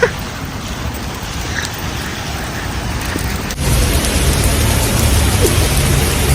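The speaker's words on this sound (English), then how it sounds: "Here we are walking in the rain again." Steady rain pours outdoors on a Miami South Beach walk, a dense hiss that swells louder midway through, with distant traffic beneath it.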